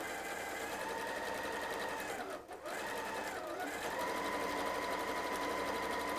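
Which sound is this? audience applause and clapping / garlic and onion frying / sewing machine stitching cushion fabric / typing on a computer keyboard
sewing machine stitching cushion fabric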